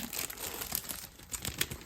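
A packet of pre-cut scrapbooking pieces being handled, with close, continuous crinkling and rustling of plastic and paper throughout a brief stretch.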